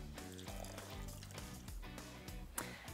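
Water is poured into a pan for a lemon syrup made with two parts sugar to one part water, a short, faint liquid splash and trickle heard alone.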